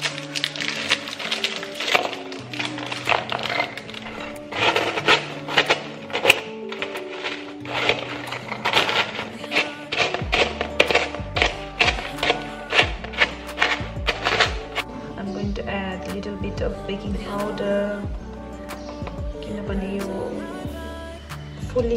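Biscuits are crushed by hand in a home kitchen, producing close, irregular bursts of crackling and crunching, with quieter rustling and low thumps in the second half.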